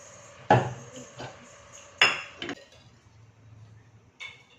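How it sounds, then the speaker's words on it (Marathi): A pressure cooker is set on a gas stove with a few sharp metallic clinks and clanks, separated by quieter gaps and a faint low hum of the burner, no speech. "मी गॅस ऑन केलेला आहे आणि कुकर गरम करायला ठेवला आहे"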